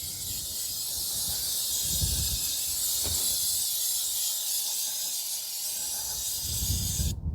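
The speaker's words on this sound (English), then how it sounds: "Maybe use some brake cleaner to wash off before we take the caliper apart." Brake cleaner sprays from an aerosol can onto the front brake caliper area of a 2012 Toyota Corolla 1.8, giving a continuous close, loud hiss that cuts off sharply at the end.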